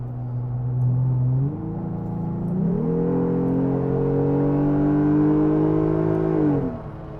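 A Jeep Wrangler JL engine accelerating hard up a mountain hill, its steady drone rising in pitch through gear changes and holding loud and close for several seconds before easing off at the end.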